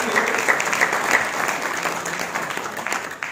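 Audience applause for achievers at a business gathering, a steady wash of many hands clapping together, fairly loud and sustained before gradually thinning out toward the end.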